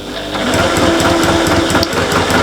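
Domestic sewing machine running steadily, stitching small appliqué letters onto a patchwork cushion; a continuous close, loud motor hum with rapid needle clatter throughout, no voices.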